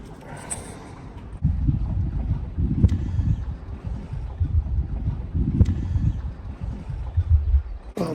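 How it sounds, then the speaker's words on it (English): Wind gusting across a sailboat, a low continuous roar and buffeting that swells and surges with the gusts, with faint creaks from the boat underneath. "It's starting to get fairly windy."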